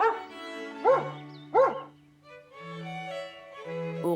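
A cartoon dog gives two short, bright yips close up, followed by soft sustained musical tones in a gentle children's animation.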